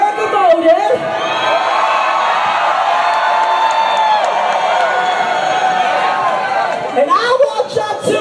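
Crowd at a Charlotte Pride 2014 drag show cheering and whooping as a performer is welcomed to the stage, a loud sustained roar of shouts and screams lasting several seconds before tapering.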